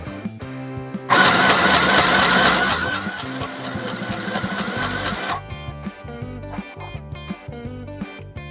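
A mini sewing machine from Aldi stitches in a loud, dense burst of whirring that starts abruptly, then settles into steadier mechanical running before stopping, leaving softer intermittent clicks and knocks.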